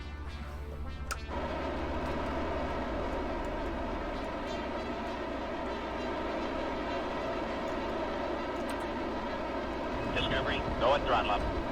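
A rocket engine fires for an orbital insertion burn in the game Kerbal Space Program: a steady, rushing roar with a low hum starts after a brief click and holds evenly throughout, with a few faint chirps near the end.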